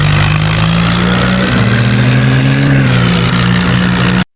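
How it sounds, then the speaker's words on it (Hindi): A new tractor's engine runs loud and close throughout, with a steady low drone that lifts in pitch as it revs up around the middle, then settles back to a constant run before cutting off abruptly at the end. "क्या खतरनाक चल रहा है ट्रैक्टर"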